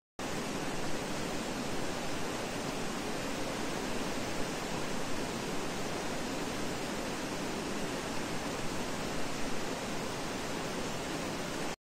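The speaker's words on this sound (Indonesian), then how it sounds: "Seiring dengan suara arus sungai yang bergemuruh" Steady, dense roar of a river current rushing past a bamboo forest. The broadband wash is continuous and close, with no pauses or voices.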